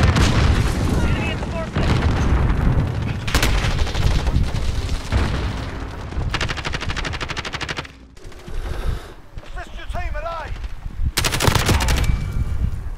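A grenade explosion and bursts of automatic gunfire in Modern Warfare multiplayer, loud and dense, with repeated gunshots and booms continuing throughout, broken by a brief lull near the middle.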